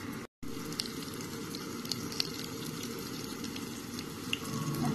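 Sliced onions with added salt sauté in a pan for a cauliflower curry, giving a steady close-up sizzle with occasional faint clicks of stirring and a brief drop-out near the start.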